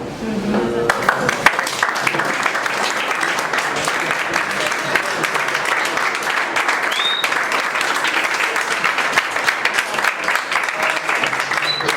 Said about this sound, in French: des applaudissements forts et que toute la classe puisse se mettre debout, que l'on applaudisse nos deux